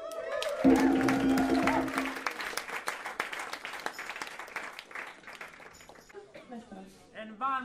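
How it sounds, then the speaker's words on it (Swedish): Audience applauding after a school music concert, a burst of clapping from a crowd that starts loud beside a held tone, then thins and fades, with a voice speaking near the end. "En applåd till er!"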